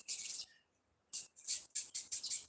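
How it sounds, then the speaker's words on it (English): Small birds chirping in bright, high bursts, one short call then a quick run of repeated tweets after a pause, fairly close and clear with no talking. "Oh, I can hear the birds."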